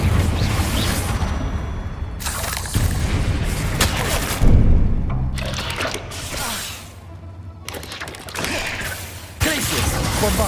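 Confringo fire spell explosions in the Hogwarts Legacy video game, a series of loud booming blasts with crackling debris and rumbling tails, separated by brief quieter gaps.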